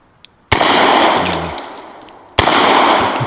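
Two very loud gunshots from a Smith & Wesson .460 XVR Magnum revolver, about two seconds apart, each a sharp crack followed by a long booming decay, fired close by.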